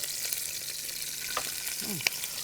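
Onions for a shrimp bisque base fry gently in a pan, a steady close hiss of sizzling oil with a few faint clinks and a brief bubbling squeak.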